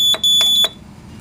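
A Siemens SXL-EX fire alarm control panel goes into alarm, sounding a loud, close, high-pitched electronic tone in short pulsed bursts, three main beeps over about half a second, then stopping.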